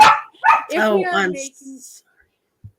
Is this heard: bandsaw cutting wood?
no